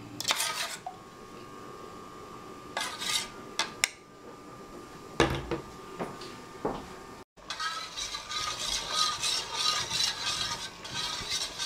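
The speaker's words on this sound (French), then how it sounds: "Je la remue bien pour pas que ça fasse de grumeaux." A utensil stirs dakatine peanut paste in a bowl, with scattered clicks and knocks at first, then a denser run of scraping and tapping toward the end, close by and with no talk.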